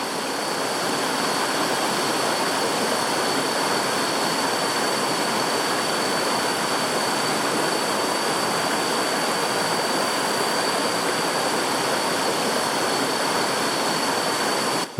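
A waterfall in a Sumatran forest roars as a loud, steady, unbroken rush of falling water for the whole stretch, with no voices.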